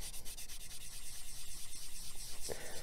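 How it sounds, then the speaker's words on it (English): A soft, squishy sanding stick works over a plastic Gundam model kit, giving quick, rhythmic rubbing strokes that repeat close up through the whole stretch, with no talking. "I'll come in with my softer, squishier sanding stick. We'll do a bit of this."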